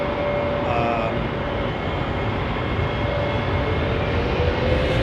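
An American Airlines jet at London Heathrow Airport produces a loud, continuous engine roar with a steady broadband rumble and faint tonal whine that persist throughout, with no talking.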